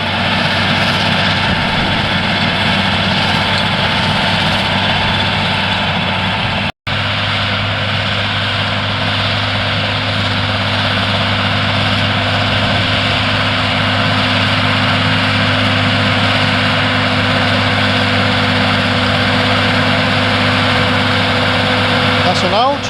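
An old Challenger tracked tractor pulls a power harrow breaking down a field for drilling, its engine a loud, steady, continuous drone throughout with one brief dropout partway through.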